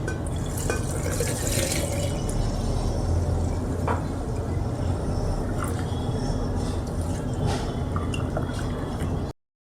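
Water is poured into a jar with salt mixed in, a continuous close splashing and trickling fill that runs steadily for several seconds and then cuts off abruptly, without talk over it.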